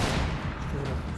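A burst of gunfire rings out in the shooter game Max Payne 3, loud and dense across the whole short moment with a voice mixed in.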